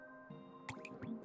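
Soft drip sounds of raindrops hitting a puddle, several small plinks and splashes in quick succession, faint and close against a quiet background.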